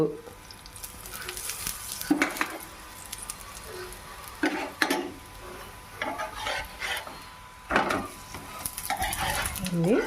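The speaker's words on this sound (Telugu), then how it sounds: "అన్నీ ఇలానే కాల్చుకుందామండి. కొంచెం ఆయిల్ వేసుకుంటూ" Sweet potato bobbatlu fry in oil on a pan, with a steady sizzle under repeated scrapes and clinks of a spatula against metal. A voice talks now and then.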